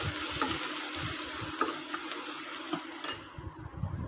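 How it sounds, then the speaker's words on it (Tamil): Onions with ginger-garlic paste sauté in a pan for a vegetable gravy, a steady gentle sizzle with occasional soft clinks and scraping as the mixture is stirred. "வெங்காயம் சேர்த்து அதையும் நல்லா இதோடு சேர்த்து வதக்கி விட்டுணும்."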